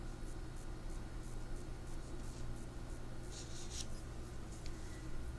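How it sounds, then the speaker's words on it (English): A pencil drags along paper, drawing a straight blocking line with faint, soft scratching strokes over a steady hiss of background noise. "I want to make sure my blocking line is really nice and straight."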